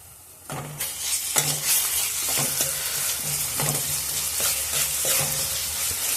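Sliced onions frying in hot oil as ginger garlic paste goes into the pan for a green chilli chicken curry: a sudden burst of loud sizzling, then steady crackle punctuated by repeated scraping stirs of a spoon against the pan.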